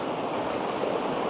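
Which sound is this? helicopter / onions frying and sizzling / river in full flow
river in full flow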